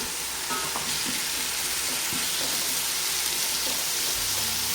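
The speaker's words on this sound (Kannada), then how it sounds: "ಇದರೊಳಗೆ ಬೆಳ್ಳುಳ್ಳಿ, ಶುಂಠಿ ಚೆಚ್ಚಿಟ್ಕೊಂಡಿದ್ದೀವಲ್ಲ, ಅದನ್ನು ಸ್ವಲ್ಪ ಫ್ರೈ ಮಾಡ್ಕೊಳ್ಳೋಣ" Crushed garlic and ginger fry in oil in a pan, giving a steady close sizzle with occasional stirring scrapes throughout, and no talking.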